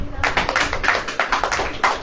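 Congregation clapping at a church gathering, a short burst of rhythmic hand claps with irregular taps, close and moderately loud for about two seconds.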